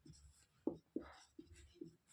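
A pen writing on paper while a maths exam problem is worked out, with a few close, soft scratchy strokes in short separate bursts over quiet background.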